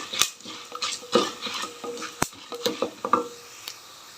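Coriander seeds roasting in a pan for a mint chutney give off light crackles and pops with stirring scrapes, a run of small sharp clicks and rustles at close range, and no voices.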